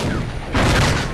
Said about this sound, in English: he's got this tank here taking shots at this AA unit that's trying to run away